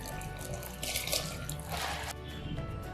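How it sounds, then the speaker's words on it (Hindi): Rice grains pour and hiss into boiling water in a couple of bursts, over a steady bubbling, watery background. "पानी में उबाल आ चुका है तो अब हम इसमें चावल डाल देंगे"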